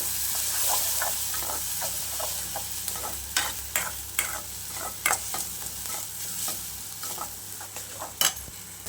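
Onions frying in a pan with ginger-garlic paste and turmeric, a steady close sizzle and hiss broken by repeated scraping stir clicks from a spatula, no voices.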